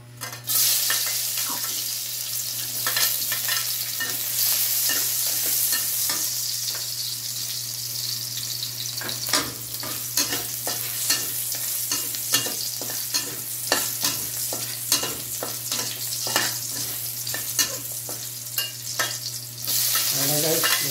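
Chayote being sautéed as ginisang sayote in a pan, with steady sizzling and frequent scraping stir strokes from a spatula over a constant low hum, close and continuous for about twenty seconds, with no talk.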